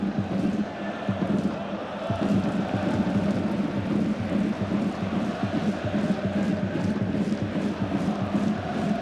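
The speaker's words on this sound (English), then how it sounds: "what the crowd don't have in numbers, they'll make up for in noise and stature" A small football crowd in a stadium during a Hong Kong versus Guangdong match, a steady roar of chanting and rhythmic noise carrying on continuously and fairly loud throughout.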